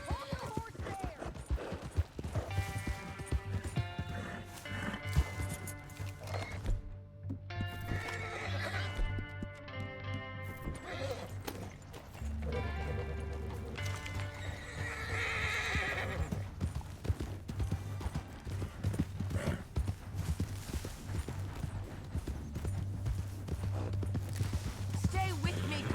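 Horse hooves clopping and a whinny from a horse in Red Dead Redemption 2, an old west setting near the town of Tumbleweed, heard alongside in-game music and a voice talking over the scene.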